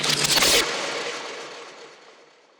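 A washed-out transition fill from an electronic track, with a stretched, pitched bass sound: a loud dense burst for about half a second, then a long reverb-like wash fading steadily away.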